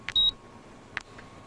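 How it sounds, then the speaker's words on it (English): A computer terminal gives short electronic beeps: a sustained high tone near the start, then a couple of brief chirps about a second later, fairly quiet against a faint steady hum, with no voices. "At 12:33, my terminal beeped for the 100th time."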